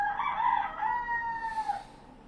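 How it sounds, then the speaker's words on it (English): A demonic chicken in the video game The Witcher 2 crows once, a rooster's cock-a-doodle-doo rising then trailing off, clear and fairly close against a quiet background. "Demonic chicken! Kill it!"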